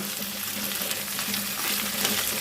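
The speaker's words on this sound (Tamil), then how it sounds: "இந்த இலையை நல்லா வதக்கிடலாம்." Thoothuvalai leaves sautéing in a pan give a steady, close, hissing sizzle with faint crackles, continuous and moderately quiet.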